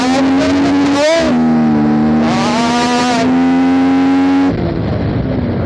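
A Bajaj NS 125 motorcycle with its air filter removed revs hard and loud, its engine note rising and holding in sustained surges before dropping back to a rough idle, with no talking.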